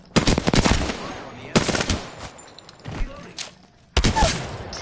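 Automatic gunfire in an Apex Legends match comes in three sharp loud bursts of rapid shots, with quieter thuds and impacts between them and voices talking over the action.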